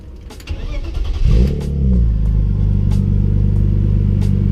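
A car engine with a newly fitted exhaust starts and settles into a steady, close, rumbling idle with a slight burble, heard from behind the car.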